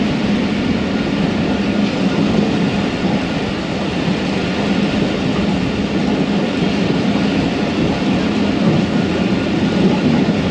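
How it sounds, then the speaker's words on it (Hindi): Tezgam passenger train running fast on the line between Raiwind Junction and Multan in rainy weather: a loud, steady rumble and roar of wheels and carriages with no break, heard from onboard. "अभी दोबारा मोमेंटम में आती है ट्रेन तो फिर इसका स्पीड चेक भी करते हैं।"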